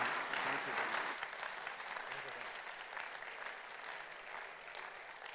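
An audience gives a strong round of applause for two people at a gathering. The clapping is loudest at the start, then settles into a steady, slightly softer ovation that continues throughout.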